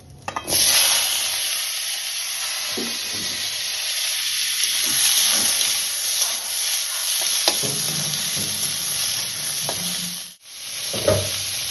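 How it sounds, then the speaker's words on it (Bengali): Whole cumin, a dried red chilli, capsicum, tomato, onion and ginger frying in a pan, a loud continuous sizzle with occasional stirring scrapes and a brief break near the end. "একটু গোটা জিরে দিলাম একটা শুকনো লঙ্কা দিয়েছি আর এই যে এইগুলো একটু ভেজে নেবো সব ক্যাপসিকাম টমেটো পেঁয়াজ আর আদা"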